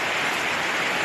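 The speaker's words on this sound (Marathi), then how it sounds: "किती पाऊस आहे" Heavy rain pours down in a dense, even hiss, loud and continuous through a brief moment with no pauses.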